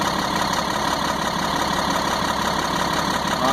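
A 1998 GMC C8500 truck's 3116E diesel engine, which has a bad ECM, idles with a loud, steady rumble and knock, heard close up and alone.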